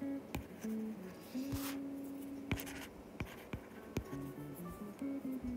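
Pen writing on paper, close scratchy strokes in short bursts with sharp taps between them, over faint background music.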